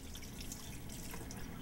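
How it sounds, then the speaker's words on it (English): Clean tap water runs steadily over hands being rinsed at a sink, a continuous close splashing wash with no talking. "Rinse hands well under clean running water at a comfortable temperature."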